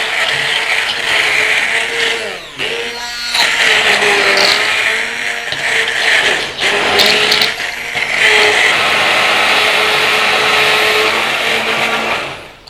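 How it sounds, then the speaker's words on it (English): A stick blender whirs loudly as it purées canned tomatoes into marinara sauce in a pan, its motor pitch wavering and dipping as the blade is moved through the sauce, running almost continuously. "if you've got a stick blender like this, just blend it in the pan"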